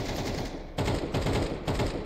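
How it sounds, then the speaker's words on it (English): Automatic gunfire in Counter-Strike 2 rattles in rapid, close, loud bursts, with short breaks between the volleys. "Oh, why the fuck are you shooting me?"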